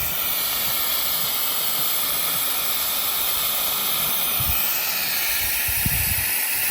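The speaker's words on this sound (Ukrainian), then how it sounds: "Вон скільки пари." Continuous loud hiss of steam pouring out of a failing LiFePO4 lithium iron phosphate battery, steady and close, with a few faint low knocks underneath and no talk.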